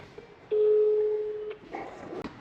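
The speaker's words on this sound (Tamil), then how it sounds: "இப்போ கால் பண்ண போகிறோம்." A phone call rings out through a handset, one long steady ringing tone lasting about a second, followed by faint background noise and a brief rustle.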